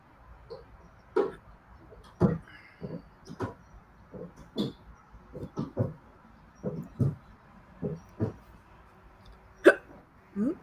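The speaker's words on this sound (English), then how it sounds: "Now I got the hiccups." Repeated hiccups from a person during a game night, about a dozen sharp, close spasms coming at an uneven rhythm, with no talking in between.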